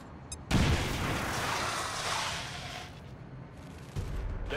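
A grenade blast in XCOM 2: a short click, then a loud, sudden explosion followed by a long rumbling roar that slowly fades, with a second thump near the end.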